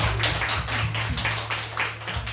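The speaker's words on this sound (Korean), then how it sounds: "감사의 박수 올려드리겠습니다." A church congregation at a Sunday worship service claps in thanks, a dense, continuous wash of many hands with a rhythmic pulse running through it and a low hum underneath, with no voices heard.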